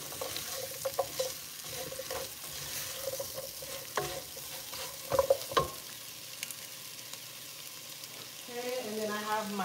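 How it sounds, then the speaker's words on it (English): Thyme and garlic sizzle in hot oil in a pot on a high stove for curry crab, a steady frying hiss broken by occasional stirring scrapes and clinks. "I'm gonna add my thyme and my garlic."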